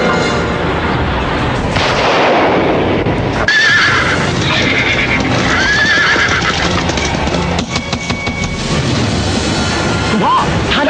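A horse in a Thai drama neighs loudly several times amid clattering hooves and dense, busy background noise with occasional heavy thumps.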